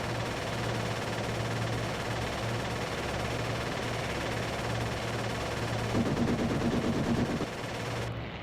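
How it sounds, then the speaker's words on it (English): Aircraft cannons and machine guns hammering in IL-2 Sturmovik 1946 during a 1940 dogfight between Hurricanes and Bf 109s, a continuous loud rattling stream of fire over steady engine drone, swelling near the end before cutting off. "There go the cannons."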